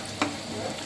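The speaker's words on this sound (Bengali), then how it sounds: "কালা কালা করে পেঁয়াজ ভাজতেছে আমার বউ" Onions frying in a pan, cooked until dark for a Bangladeshi beef kala bhuna, giving a steady low sizzle close by with a brief stirring scrape near the start.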